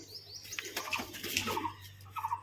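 A pet pigeon, a female kept at home, coos in soft repeated calls near at hand, with a few light chirps over a faint low hum.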